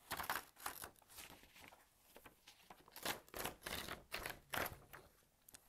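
Sketch paper is ripped off a pad in a series of loud, close tearing and crinkling bursts that repeat unevenly across the moment, with no talk.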